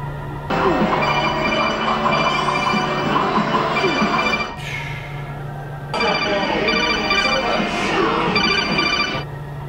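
An outgoing telephone call rings through the earpiece, repeated electronic ring tones in two long bursts separated by a short pause, loud and close with no one speaking over them.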